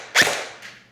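A single sharp crack of an airsoft shot striking a Gun Power electronic target, followed by a fainter second tap about half a second later, close and clear with no talking.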